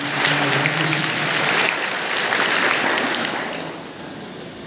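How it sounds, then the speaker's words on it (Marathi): A crowd applauds at a powada ballad performance about Chhatrapati Sambhaji Maharaj, with dense, steady clapping that holds for several seconds and then thins slightly toward the end. "जोरदार टाळ्या वाजू दीदीसाठी"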